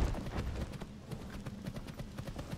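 Steady clip-clop of horse hooves trotting along in the Skyrim region of Riften, a repeating rhythmic beat over a low rumbling background.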